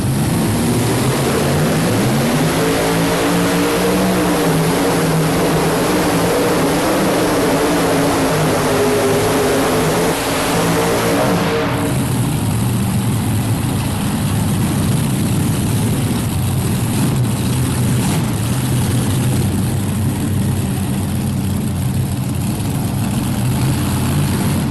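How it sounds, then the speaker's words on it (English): The Bad Habit pulling tractor, running four Chevrolet engines, roars loud and close at the 1999 National Farm Machinery Show, its pitch climbing steadily before abruptly dropping to a lower, rougher rumble about halfway through. "the Bad Habit tractor. 4 Chevrolets on board here."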